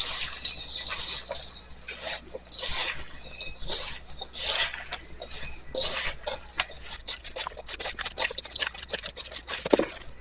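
Wet, squishing and sloshing sounds of hands mixing ground meat with pepper and kosher salt for meatballs in a bowl, steady and close, with no talking.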